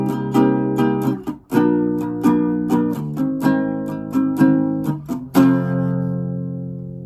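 A three-chord progression from a song, in the NPR Tiny Desk version, played on clean guitar, with repeated rhythmic strums across several bars and a ringing final chord.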